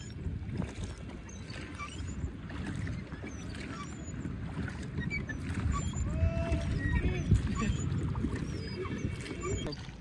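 A boat motors across Nainital Lake, a steady low engine rumble and water wash with faint chirps in the background, building slightly louder midway.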